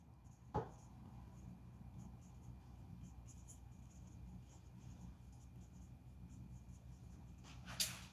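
A marker or chalk writes a physics formula on a board, giving soft continuous scratching strokes close by, with a sharp tap at the start and another near the end.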